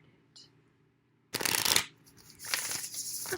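Tarot cards are shuffled close by in two loud riffling bursts, a sharp flurry followed after a pause by a longer, softer shuffle, with a brief faint sound before.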